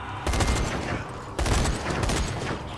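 Heavy gunfire in the Zombie Army 4: Dead War zombie shooter game, two dense bursts of rapid, loud, close shots back to back.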